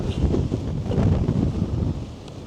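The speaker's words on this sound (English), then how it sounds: "You get a gust of wind and it's just nearly knocks you off your feet" Strong gusty wind buffets the microphone on a hilltop at Glastonbury Tor, loud roaring surges that swell and ease over a couple of seconds, with no voices.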